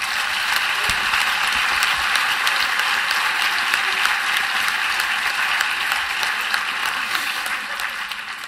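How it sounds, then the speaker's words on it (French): A conference audience at a French colloquium on the Olympics applauds steadily, dense clapping that goes on for several seconds at an even level and then begins to fade near the end. "Et je voudrais déjà l'applaudir et la remercier."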